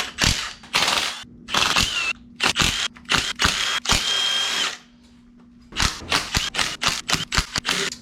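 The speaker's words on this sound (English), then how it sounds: "I'm just zipping them off with the impact." Impact wrench zipping bolts off a RAV4 engine crankcase during reassembly, loud close bursts of rattling hammering in quick repeated pulses separated by short pauses and one longer gap.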